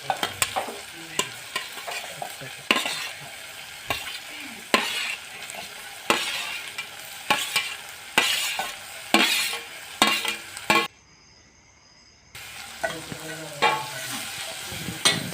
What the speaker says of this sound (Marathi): छानसे असं परतून घेऊ